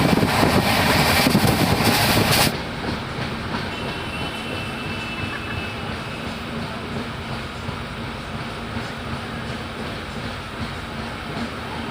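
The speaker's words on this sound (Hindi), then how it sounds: "ट्रेन मऊ स्टेशन क्रॉस कर चुकी है" Inside the Ratnagiri SF Express passenger train, a loud, continuous rumble of wheels on rails fills the coach, louder for the first couple of seconds and then a slightly softer steady roar.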